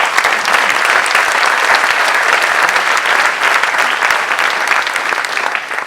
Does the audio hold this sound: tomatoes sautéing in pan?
no